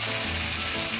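Cabbage sizzles steadily in a frying pan, a continuous loud broadband hiss filling the whole second with no voices.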